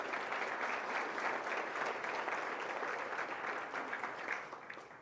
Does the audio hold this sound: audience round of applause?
yes